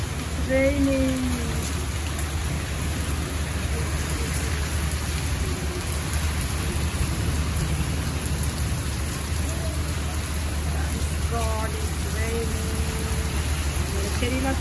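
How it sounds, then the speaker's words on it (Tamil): Steady rain falls outdoors, a constant dense patter that runs through the whole stretch, with faint voices and a few brief tonal calls or sounds surfacing over it near the start and end. "மழை பெய்யுது."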